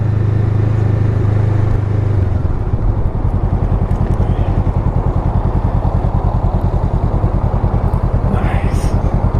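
A Honda CMX500 Rebel motorcycle is ridden on the highway, its engine giving a close, steady drone with a rapid pulsing throb that settles in after a couple of seconds, with wind rushing throughout.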